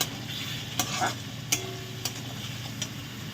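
Boiled taro frying in a pan, a steady close sizzle with a few sharp clicks and knocks from a spoon stirring against the pan at irregular moments.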